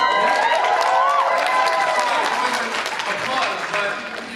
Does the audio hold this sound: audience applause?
yes